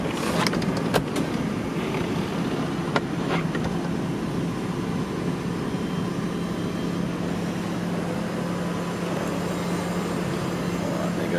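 Electric folding soft top of a Mercedes-Benz CLK280 Avantgarde convertible retracting, a steady low motor hum running throughout with a few faint clicks of the mechanism near the start.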